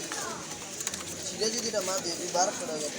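Pigeons coo at the busy Mirpur-1 pigeon market, with soft cooing phrases heard beneath people talking nearby.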